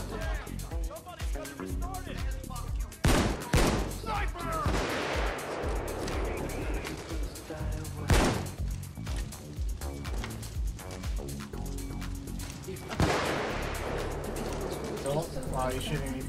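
Gunfire from a shotgun build in the video game Payday 2 cracks out in a few sharp, loud blasts spaced several seconds apart, set against busy in-game ambience and voices talking over the action.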